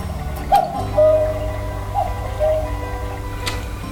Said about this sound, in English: And that's a cuckoo clock.